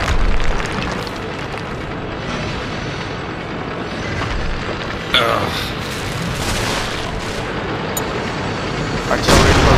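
Artillery fire in World of Tanks during a clan wars battle, loud booming blasts and explosions with sharp bursts, including a strong hit midway and another near the end, over constant rumbling battle noise while players talk over radio.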